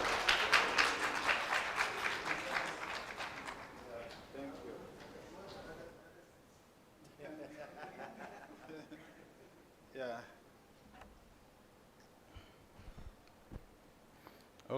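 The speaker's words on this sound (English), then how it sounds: "Please, let's keep clapping for Prof till Prof gets here." Audience clapping at a national climate conference, loud and dense at the start, then fading out over several seconds while a speaker talks over it.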